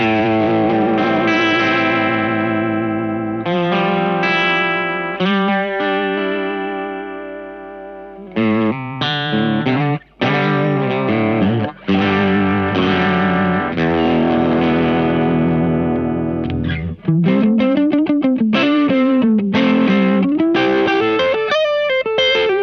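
Distorted electric guitar notes throb through a Crazy Tube Circuits Killer V vibrato and overdrive pedal, the tone wobbling and warbling rhythmically in a square-wave-like pulse with loud, sustained chords and brief pauses.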